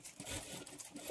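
A sewing machine stitches the lining of a high neck blouse, starting at the neck part, with a fast, even rattle of the needle running continuously at a soft level.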